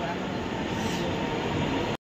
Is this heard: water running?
no